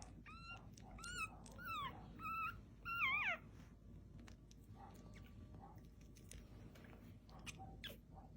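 A few high, thin whimpers and squeaks from a small puppy being tube fed come in short bursts early on, then fade into quiet background hiss.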